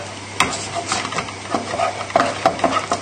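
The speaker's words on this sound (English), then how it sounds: "give your mash a final stir" Mashed potatoes given a final stir in a pot, a close series of soft scraping strokes and spoon taps against the pan, with no talking.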